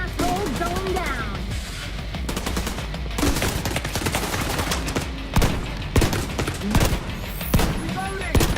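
Suppressed pump shotgun fire in The Division 2, muted thumps scattered among a dense run of other gunfire and game effects, with someone talking over the action.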